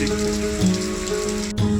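Rain falls in an Odisha village as a steady, close hiss of drops hitting surfaces, with a constant low tonal hum underneath and no voices.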